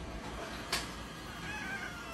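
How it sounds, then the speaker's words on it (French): A cat gives a single short meow over a steady background hiss, quiet and brief. "Arrête de miauler"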